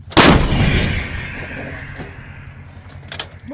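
An M777 155mm towed howitzer fires one loud, booming shot up close, the blast decaying into a long rumbling echo, followed by a faint clank a few seconds later.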